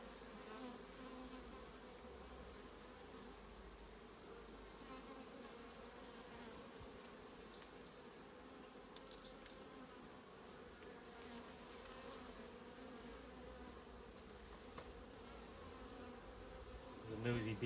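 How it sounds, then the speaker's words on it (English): Honey bees buzz steadily around an open hive during honey harvesting, a faint, continuous drone with occasional closer passes and brief clicks, no talking. "There's a nosy bee come around here."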